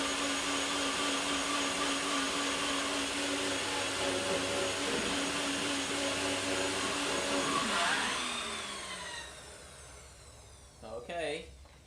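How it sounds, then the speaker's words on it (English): A blender whirs loudly and steadily while blending a superfood breakfast smoothie, then winds down near the end, followed by a brief rattle as it stops. "Do a little dance to the tune of the blender."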